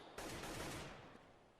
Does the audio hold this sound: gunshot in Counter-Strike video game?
yes